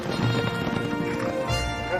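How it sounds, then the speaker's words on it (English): Horse hooves clip-clop in a quick, uneven rhythm during a royal polo match, mid-distance over a busy outdoor background. "eventually they took to riding horses"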